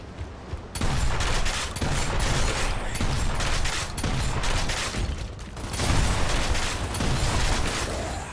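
Boomshot grenade launcher blasts in the Gears of War video game, with heavy, continuous explosive and gunfire noise that stays loud and dense throughout, with no voices.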